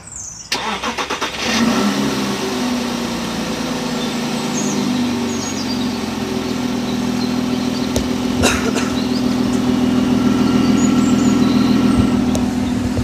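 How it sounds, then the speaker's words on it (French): A 4x4 car engine cranks briefly, catches, and settles into a steady, deep idle with a low rumbling drone, loud and close, with a couple of faint clicks and no talking. "Je veux juste que tu me le démarres, qu'on entende le bruit à l'arrêt sans que tu accélères."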